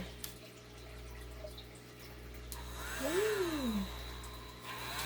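Air blown across wet alcohol ink on a ceramic tile coaster gives a soft, steady airy hiss that swells midway, with a brief rising-and-falling whistle-like tone; fairly faint, no talking.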